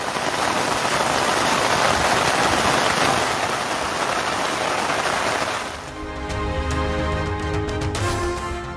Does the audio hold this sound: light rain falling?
yes